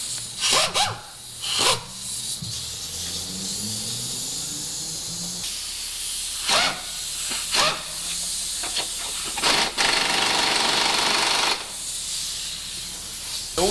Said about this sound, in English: noisy as damn air ratchet.